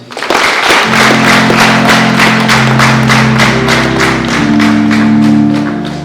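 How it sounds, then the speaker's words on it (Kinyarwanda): Guests at a wedding reception clap in a steady rhythmic beat, loud and close, with a sustained low musical drone or keyboard tones underneath. "twongere tumuhe amashyi"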